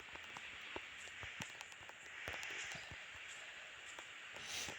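Steady patter of rain falling in a Minecraft game world, a soft continuous hiss with scattered light drop ticks, fairly faint and without talk.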